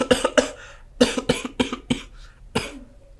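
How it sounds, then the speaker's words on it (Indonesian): A person coughs repeatedly in close, harsh bursts, several quick clusters of dry coughs separated by short pauses, loud and alone without talking. "Batuk terus."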